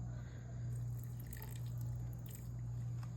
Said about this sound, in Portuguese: E vou colocar só mais um pouquinho da água